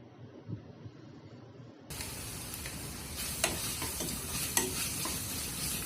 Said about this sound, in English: Let them to saute onion.